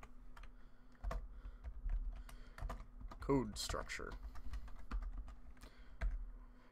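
Clicky keystrokes on a computer keyboard tap out in a quick, uneven run of close, light presses, with someone talking over them for much of the stretch.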